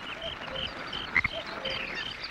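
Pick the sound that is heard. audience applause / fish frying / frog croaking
frog croaking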